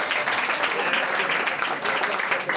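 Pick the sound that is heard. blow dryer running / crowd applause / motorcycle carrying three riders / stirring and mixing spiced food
crowd applause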